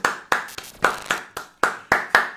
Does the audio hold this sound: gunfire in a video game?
no